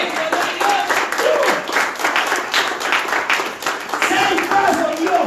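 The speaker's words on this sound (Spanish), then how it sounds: "Cuando le dan un aplauso al Señor." A church congregation claps for the Lord in steady, loud applause that fills the room. The clapping runs continuously, and a voice can be heard faintly beneath it.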